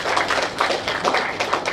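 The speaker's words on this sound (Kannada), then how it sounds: "ಬರ್ಲಿ ಒಂದು ರೌಂಡ್ ಚಪ್ಪಾಳೆ" Audience claps at a Kannada film event for Kuladalli Keelyavudo hero Manu Madenur, a dense, steady patter of many hands filling the whole moment without pause.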